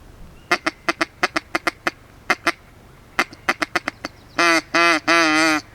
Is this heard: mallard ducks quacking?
yes